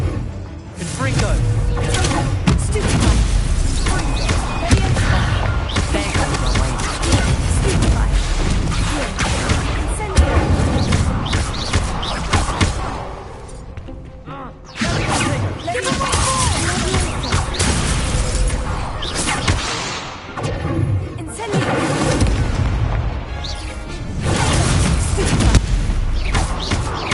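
Repeated booming blasts from the Confringo explosive spell in the Hogwarts Legacy video game, dense and loud over a continuous score of combat effects, with voices speaking throughout.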